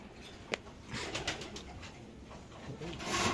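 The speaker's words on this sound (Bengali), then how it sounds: "এটা একটা ক্লাবের কবুতর দেখতে পাচ্ছেন" Racing club pigeons at a pigeon farm coo softly and repeatedly, with a low, throaty rhythm close by. A sharp tap or wing-flap sounds near the start, and faint rustling fills the background.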